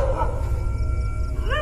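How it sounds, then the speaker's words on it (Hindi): Cartoon dogs in the Gulli Bulli cartoon bark and yelp from inside a morgue at night, sharp rising cries above a steady low rumbling background score. "अंदर से कुत्ते की भौंकने की आवाज आने लगती है"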